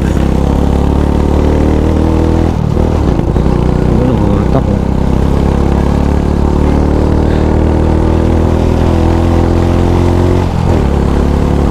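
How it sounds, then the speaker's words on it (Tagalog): A Smash motorcycle engine with a carburetor problem runs loudly and close by, a continuous rough drone whose pitch dips and recovers unevenly, with brief stumbles near the start and end. "niloloko tayo ng ating motor"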